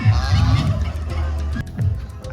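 A duck at a small farm enclosure at a countryside campsite near Khopoli gives loud, nasal, honking calls close by, in two bursts with a brief pause between them.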